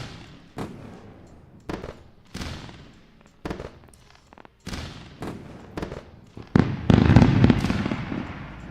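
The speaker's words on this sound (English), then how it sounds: "There you go with the fireworks." Fireworks burst in a series of sharp bangs spaced about a second apart, each trailing off into a crackling decay, and the final salvo is denser and louder with overlapping crackles.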